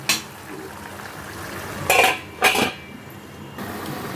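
A metal lid goes onto a cooking pot of raw hilsa fish and cucumber, two close clanks of metal on metal with a short ringing tone, set against a steady background hiss.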